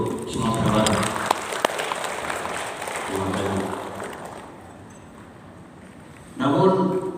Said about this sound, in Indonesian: Tepuk tangan dulu untuk Sumatera Barat.